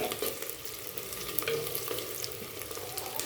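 Onion with whole cumin, garam masala, dried red chillies and bay leaves sautéing in oil in a handi, a steady close sizzle with scattered stirring scrapes throughout.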